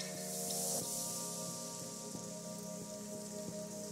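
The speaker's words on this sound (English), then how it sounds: "so I think we're good on the raindrop." Raindrop sound sample playing within a beat, a steady hiss of rain on a surface with faint patter, joined by regular rhythmic tonal hits and a sustained tone, continuous and fairly loud throughout.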